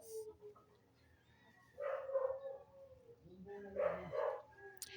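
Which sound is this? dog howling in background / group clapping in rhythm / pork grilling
dog howling in background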